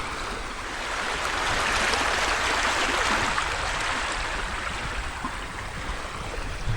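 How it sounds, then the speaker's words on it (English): A creek running slightly higher than normal after recent rain rushes steadily in a continuous broadband wash, close and fairly loud, with no voices over it. "We're about to cross the local creek here. You can check out the water."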